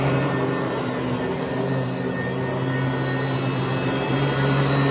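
A Sanitaire SC888 upright vacuum cleaner runs with a steady, loud motor whine and hum that stays constant throughout, close by with no talking.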